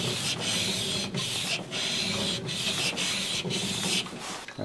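A Japanese hand-plane blade is rubbed back and forth on a whetstone in a woodworking shop, giving a steady close grinding rasp in repeated strokes with brief pauses between passes.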